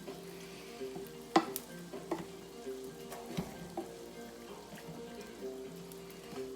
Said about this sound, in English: Now we're talking. We get the shrimp cooking.